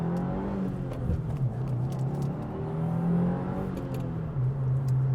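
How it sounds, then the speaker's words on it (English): The Boxer 4-cylinder engine of a Subaru WRX gives a steady, low rumble from inside the car, rising and falling slightly in pitch as it runs. "listening to that Subi rumble coming from that Boxer 4-cylinder"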